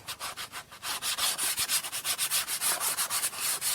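Yellow crayon scrubbed back and forth over a paper page, quick rhythmic scratchy strokes repeating evenly, close and soft with no talking.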